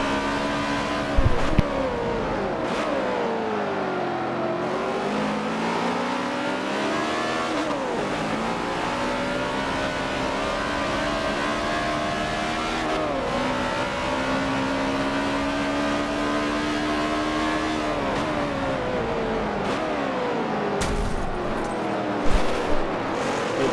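Engines of race cars bumper racing at Homestead Roval in a racing video game roar steadily and rise and fall as the cars rev and shift. Occasional thumps of contact and tire noise come through the continuous loud drone.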